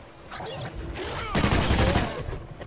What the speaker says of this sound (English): I'm fucking shooting